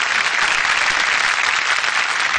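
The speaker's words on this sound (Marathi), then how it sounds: "पुन्हा एकदा जोरदार टाळ्या होऊन जाऊ देत कार्तिकीसाठी।" A television singing-competition audience gives loud, dense, continuous applause for the young singer Kartiki Gaikwad, a close, full wash of clapping that fills the whole moment.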